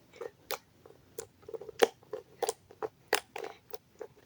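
Sticky slime stretched and pulled apart by hand in a home setting, giving a quick series of sharp, moist clicks and crackles at an irregular rhythm, close and fairly quiet with no talking.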